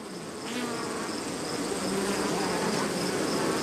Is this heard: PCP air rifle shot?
no